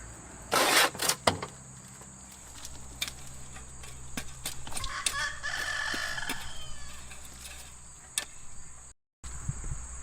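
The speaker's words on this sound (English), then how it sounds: "the chickens are staying happy with all these shrubs" Chickens and a rooster call outdoors, a loud burst of crowing early on, then scattered clucks over a steady background of insect buzz.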